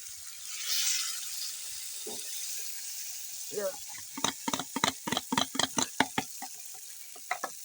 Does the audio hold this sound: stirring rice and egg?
yes